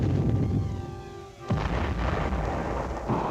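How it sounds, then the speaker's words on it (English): A 106mm recoilless rifle fires, giving a heavy booming blast with a sharp onset and a long rumbling roar that fills the short stretch, loud and alone with no voices. "Others, like the 106mm recoilless rifle, have the capacity to destroy armor, enemy buildings, and bunkers."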